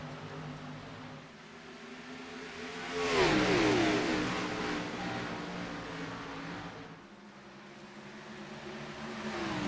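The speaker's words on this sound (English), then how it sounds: "green flag flies as Richter hits the loud pedal" Race cars in a USA Pro Cup Series event roar together as the green flag falls, a broad engine swell rising sharply around the third second, then holding loud before easing off late.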